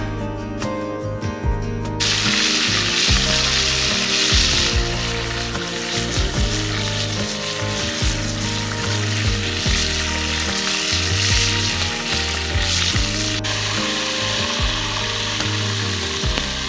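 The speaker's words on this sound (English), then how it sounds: "Lance has been frying bacon" Bacon sizzles steadily in a pan at a makeshift hunting camp, a dense continuous crackle heard close up alongside low rumbling background noise, with no one speaking.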